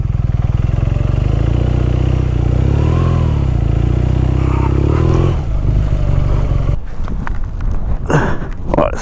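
A BMW R9T motorcycle working through soft beach sand, its loud engine droning and labouring close up, then breaking into rough clattering bursts near the end.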